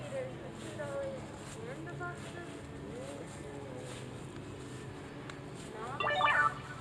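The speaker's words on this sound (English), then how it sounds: "there's some notifications" A short burst of phone notification chimes near the end, sounding over a steady background murmur of voices and room noise at a garage sale.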